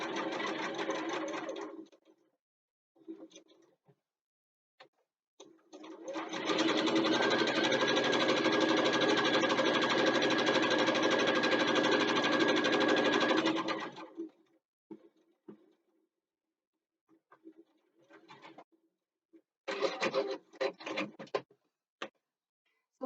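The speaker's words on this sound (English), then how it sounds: "And then sew right down to the end of the other side." A sewing machine stitches a backpack seam in a long, even mechanical whir of about eight seconds, framed by short bursts of stitching and quiet handling noises before and after, with no speech.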